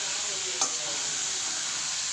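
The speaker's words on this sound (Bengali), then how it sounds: "এই যে শালগম কষানো হয়ে গেছে, আর একটু কষিয়ে নেব।" Turnip stir-fried in a pan with hilsa fish bones, giving a steady close sizzle with one brief scrape of a spoon against the pan, no voices.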